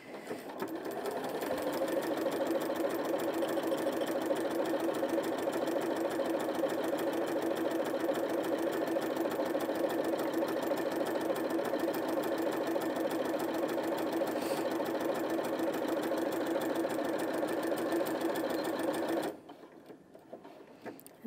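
A Janome 5060 QDC sewing machine stitches fabric in one long, steady run of rapid, even needle chatter, close and loud, stopping abruptly near the end.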